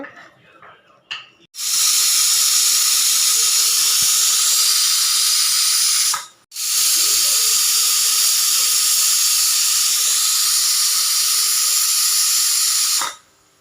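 A pressure cooker whistles long and loud while chicken biryani cooks, two sustained hissing steam blasts with a brief gap between them, close by and alone.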